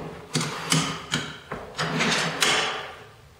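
A clamp is tightened onto the fence of a wooden table saw miter sled, producing a series of short sharp ratcheting clicks and scrapes, about seven in irregular succession, close and moderately loud.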